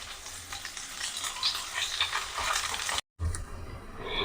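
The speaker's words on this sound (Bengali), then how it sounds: "বাটার বা ঘি দিয়ে উল্টে পাল্টে হালকা লাল করে ভেজে নিতে হবে" Something frying in butter or ghee, turned over until lightly browned, gives a steady close sizzle throughout with stirring noises, cut by a brief dropout partway through before the sizzle returns.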